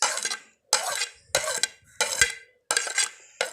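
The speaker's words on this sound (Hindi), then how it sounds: "ये सब हम इसमें शामिल करके फिर अच्छे से मिक्स करते हैं।" Tomato, onion, coriander and green chilli being mixed in a bowl with a spoon: bursts of clinking and scraping come in about six separate strokes with short pauses between them, close by and with no talk.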